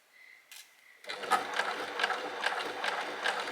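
A Babylock Primo sewing machine stitches slowly on a Christmas tree project, starting after a short pause and settling into a steady, even run of close, rhythmic needle strokes with no talking.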